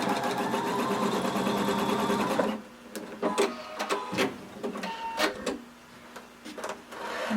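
A sewing machine stitching the side seam of a swimsuit, a fast steady whirring run that stops abruptly, followed by scattered clicks and handling noises.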